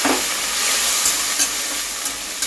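Vegetables sizzle and hiss in a frying pan just after a little water is added, a steady, bright steaming crackle filling the whole stretch with a few sharper pops, no voices.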